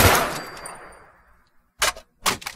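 A HoneyBadger rifle in modded Fallout 4 fires once, with a loud shot that trails off into a fading tail, then two sharp metallic reload clicks follow after a brief silence.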